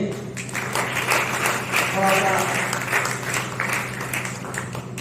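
An audience at a Hindi foundation-day honour ceremony in Delhi gives steady applause, with someone speaking over the clapping throughout.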